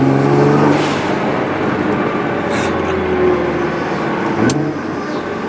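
Turbocharged car with a vent-to-atmosphere blow-off valve, engine droning loudly with revs rising and falling, short sharp whooshing bursts of released air breaking through near the middle and again toward the end.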